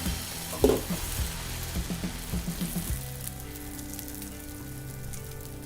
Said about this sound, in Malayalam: അപ്പോൾ ഈ പാനൊന്ന് നല്ല രീതിയിൽ ചൂടായി കിട്ടണം ചൂടായിട്ടുണ്ട് ദോശ ഒഴിച്ച് കൊടുക്കാം